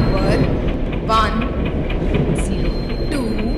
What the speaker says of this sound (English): Express is arriving at platform number 1.